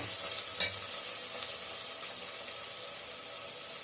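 Salted onions sautéing in a pan for mutton head curry, a continuous close sizzle with a few stirring scrapes near the start.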